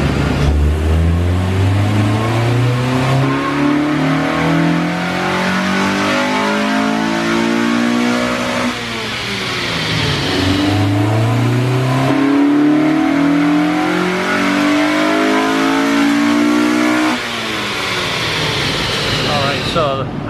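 A Honda EP3 with a K24 engine revs through its small stock exhaust, climbing steadily in pitch twice with a drop between, loud and droning with a buzzy tone. Talk runs underneath.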